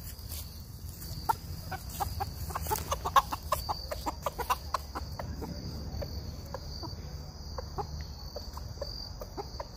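Chickens cluck softly while being fed cheese, with short scattered calls over a steady high insect-like buzz, fairly quiet throughout.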